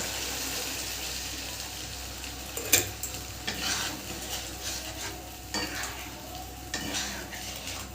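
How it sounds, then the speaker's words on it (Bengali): Water poured into sizzling spice paste for pabda fish curry, a hissing fry with a sharp splash and stirring scrapes, steady and close, no talk. "এবার এতে দিয়ে দেবো জল"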